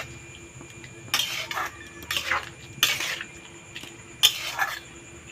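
A utensil scrapes and stirs spice paste (masala) frying in a pan, four separate bursts of clinking and scraping set against a quiet background.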